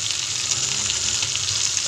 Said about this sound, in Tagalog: Meron din pala akong nilulutong piniritong tamban na isda dito sa kabila